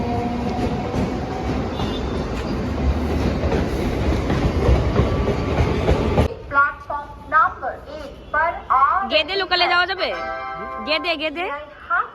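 A train rumbles and clatters loudly at a railway platform where people wait for a local train, the steady rolling noise filling the first half before it cuts away to people talking nearby.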